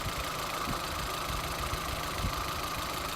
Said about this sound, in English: This engine is going to go into a Caterpillar forklift truck that we've got in work